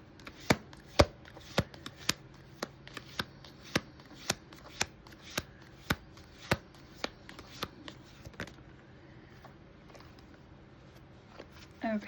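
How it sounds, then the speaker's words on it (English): Tarot deck being cut and shuffled, giving a steady run of crisp, close card taps and snaps at an even pace, fading in the last seconds with faint room noise. "I'm going to go ahead and cut the deck."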